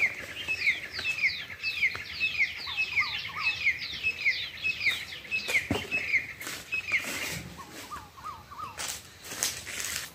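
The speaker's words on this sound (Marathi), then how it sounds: "मी विचार केला एवढा छान कोकिळ गातोय" An Asian koel sings outdoors, giving a rapid series of repeated clear calls, then pausing before a shorter run of fainter notes, with scattered clicks and light background noise.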